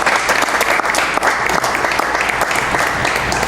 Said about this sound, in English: a large round of applause for Bob Perkins as well